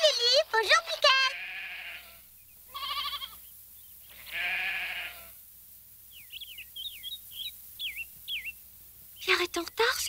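Several short bleating calls from goats, with a person talking at the start and end and faint bird chirps in between.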